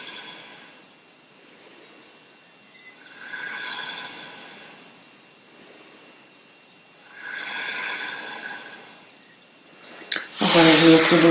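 Slow, steady breathing during a held yoga pose, with two long soft breath swells spaced a few seconds apart in a quiet room, followed by a louder abrupt rustle or exhale at the end.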